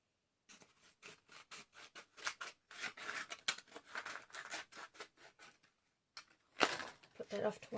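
Scissors snip close up through a plastic drink bottle along a traced template in quick, uneven crunchy cuts, with brief pauses and a sharper cluster of snips near the end.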